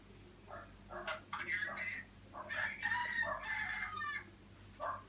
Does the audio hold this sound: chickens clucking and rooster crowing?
yes